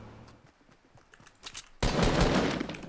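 Gunfire in Fortnite Battle Royale starts as faint scattered shots and then becomes a sudden loud, dense burst of rapid automatic fire that fills the last second.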